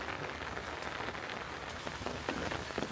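Steady rain patters on a rooftop garden, a dense, even hiss of drops striking surfaces throughout, close and moderately loud with no voices.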